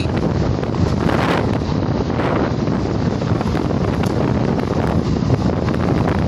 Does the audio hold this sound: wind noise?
yes